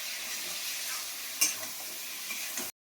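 Potatoes being sautéed in a pan, a steady close hiss of frying with a brief clink partway through, unbroken by talk until it cuts off abruptly near the end.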